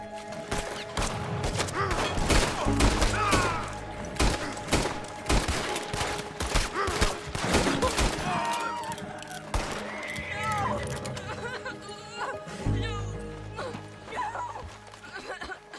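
Gunfire in the video game Red Dead Redemption 2 comes as bursts of loud close shots and thuds during a raid, crackling repeatedly over game music, with voices talking throughout.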